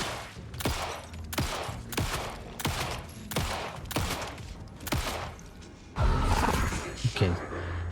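Gunfire in the video game Alan Wake 2 sounds as a series of loud shots spaced under a second apart, with a heavier burst near the end over steady game ambience.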